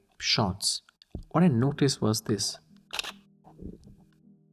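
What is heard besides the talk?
Fujifilm X-E4 camera shutter click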